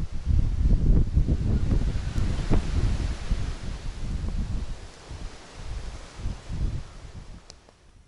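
Strong wind buffets the microphone with a rough, low rumbling roar, gusting louder and softer over several seconds, while out fishing.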